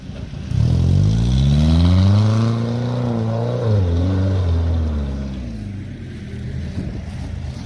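A UAZ Bukhanka van engine revs hard off-road, close and loud, its pitch sweeping up and down under load before settling to a lower, fading drone.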